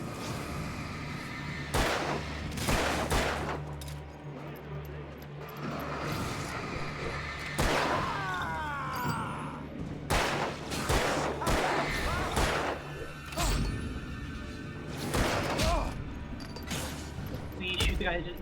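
Gunfire in the video game Alan Wake goes off in repeated loud, sharp shots and bursts over a low droning background, with talk in between.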